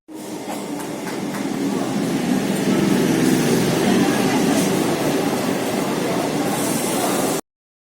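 A train at a railway station in the evening makes a loud, steady broadband rumble and rush that runs continuously for several seconds, then cuts off.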